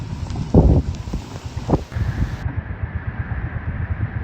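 Steady wind roar with broadband rushing noise from heavy rain and gusty cyclone wind during Cyclone Fengal at Point Pedro jetty, Sri Lanka, close to the microphone, with a few louder buffets.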